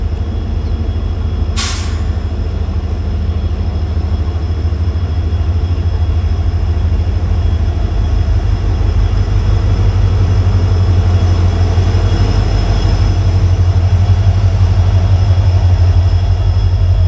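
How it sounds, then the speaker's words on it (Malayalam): The Yesvantpur Intercity Express, a train running with ICF coaches, rumbles loudly and continuously, with a deep steady low drone from on board and a single sharp hiss early on, with no talk. "യശ്വന്ത്പൂർ ഇൻ്റർസിറ്റി എക്സ്പ്രസ് ആണ് ഇത്."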